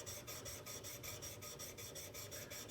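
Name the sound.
card scraper edge rubbed across coarse sharpening surface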